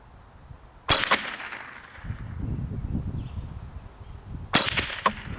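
A22 Standard Model .22 rifle fires three sharp, close cracks, one early, then two in quick succession near the end, with a low rumble of outdoor ambience between shots and no voices.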